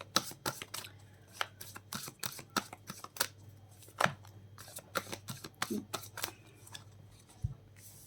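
Tarot cards being shuffled and drawn, a close run of quick papery flicks and snaps in an uneven rhythm, with a few softer slides between the bursts.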